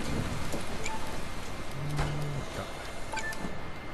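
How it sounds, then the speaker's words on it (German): Steady rain falls in the Bus Simulator 21 video game, a soft continuous hiss with light patter running evenly throughout, with no voices over it. "Es regnet mal wieder."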